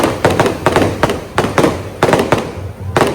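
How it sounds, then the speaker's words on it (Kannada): Firecrackers burst outside in rapid, loud clusters of cracks and pops, coming in irregular volleys with short pauses between them. "ಇದ್ಯಾರು ಪಟಾಕಿ ಜೋರ"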